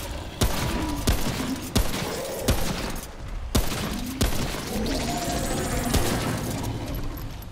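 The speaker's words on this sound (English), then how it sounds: "An enemy with a machine gun." Bursts of machine gun fire from an enemy in Remnant: From the Ashes, loud rapid sharp reports repeating at roughly one per second over a noisy, clattering background.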